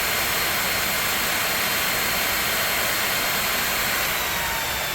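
A Samsung Bespoke Jet cordless stick vacuum runs steadily at mid power, giving a loud, close, constant whooshing whine with airy hiss and no breaks, and no one speaks over it.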